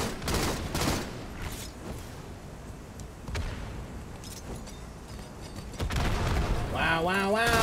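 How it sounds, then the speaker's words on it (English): Grenade explosions and gunfire in the Halo MCC video game, a string of booming blasts and cracking shots in quick succession, with a voice briefly heard near the end. "Grenades everywhere."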